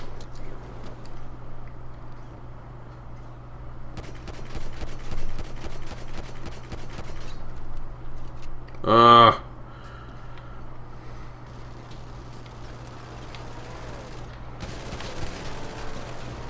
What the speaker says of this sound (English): That thing has machine guns on the front of it.